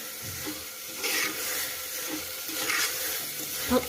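Rice sautés in hot oil in a pan, a steady close sizzle broken by repeated scraping strokes of a stirring spoon, with no voices over it.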